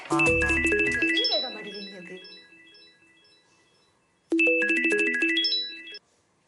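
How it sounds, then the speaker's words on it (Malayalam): A melodic phone ringtone plays loudly, fades out, then starts again after a short silence, close by. "നിങ്ങൾ ഫോൺ അടിക്കണല്ലേ?"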